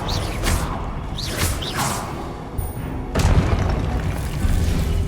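A spell cast in the Hogwarts Legacy video game lands as a loud deep boom with a whooshing rush, followed moments later by another heavy thump and burst, with no talking over it.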